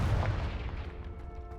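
A Confringo spell explodes in the game Hogwarts Legacy, a single loud, deep blast at the start that rumbles and fades into a lingering low decay.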